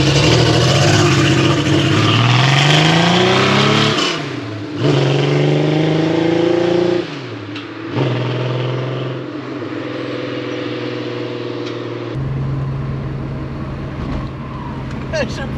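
A budget project Porsche 911 engine revs hard and then drops in pitch as it drives off, loud and close from inside the car, settling into a lower steady drone.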